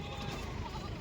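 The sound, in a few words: goat bleating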